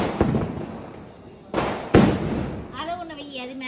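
Peacock-type firecrackers bursting during Diwali, with two sharp loud bangs close together followed by a whistling, crackling spray of sparks, while people talk in the background.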